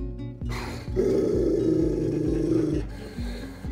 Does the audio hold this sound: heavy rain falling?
no